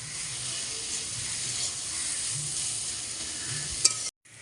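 Chopped banana flower cooks in a pan over a very low flame, giving a steady, close sizzling hiss with faint stirring scrapes, constant for about four seconds before cutting off abruptly.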